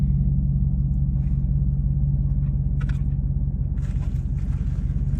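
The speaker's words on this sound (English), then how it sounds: "In the loudest truck known to man." Very loud truck parked close by, its engine idling with a deep, steady rumble that holds for the whole span while fainter clatter and movement break in over it.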